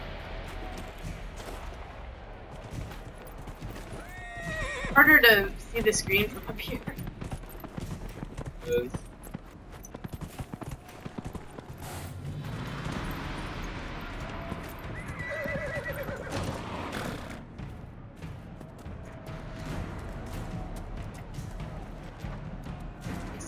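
A horse in the video game Dragon Age Inquisition whinnies loudly, then its hooves clip-clop in a steady rhythm along with some game sounds, while someone speaks briefly over it.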